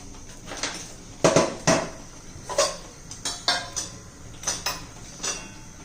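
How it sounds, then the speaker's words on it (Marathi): Peanuts dry-roasting in a pan, with repeated clattering scrapes and rattles as the nuts are stirred and tossed against the metal, irregular and close, without talking. "मी आज शेंगदाणे भाजायला घेतले शेंगदाणे भाजून घ्यायचे पहिले आपल्याला"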